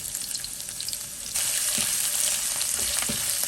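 Ginger, garlic and chili flakes frying in oil in a wok, heard as a close sizzle that surges louder partway through, with a few light stirring knocks.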